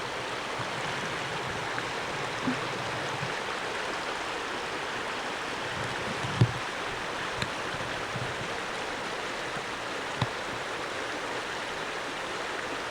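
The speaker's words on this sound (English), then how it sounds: "The creek is not frozen at all anymore, and it runs really high this time of the year." A spring creek running high with snowmelt in front of a cabin, a steady, full rushing of water with no breaks, near and constant, with a few faint knocks.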